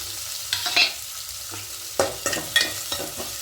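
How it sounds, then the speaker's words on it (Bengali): Cashews and raisins fry in a pan for veg paneer pulao, a low sizzle punctuated by several sharp, close spatula scrapes at an uneven pace. "এবার এখানে কাজু আর কিশমিশটা দিয়ে দেব"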